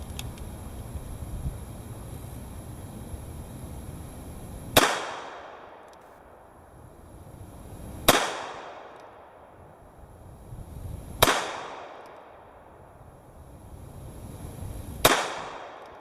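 A Ruger LCRx revolver firing .38 Special +P rounds, four sharp, loud, isolated shots spaced about three to four seconds apart, each with a brief ringing decay, over a steady outdoor background hiss.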